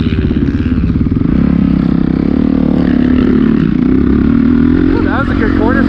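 A dirt bike runs on a motocross track: a loud, close engine drones and revs steadily throughout, with a voice talking over it.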